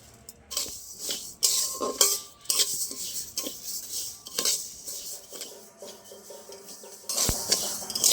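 Rice dry-roasts in a hot pan, stirred with a utensil in irregular scraping and clinking strokes, close and moderately loud with short pauses between them.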